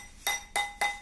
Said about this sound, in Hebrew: אני דופק על הטבעת.